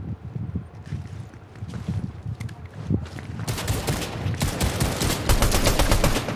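Rapid video game gunfire crackles in dense bursts, sparse at first and then swelling into a loud, sustained barrage of overlapping shots.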